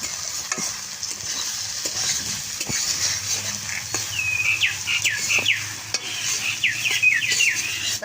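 Potatoes sizzle and fry in a pan, joined by telakucha greens being stir-fried, with a steady hiss, scraping stirs and light utensil clicks; birds chirp faintly in the background of a village kitchen.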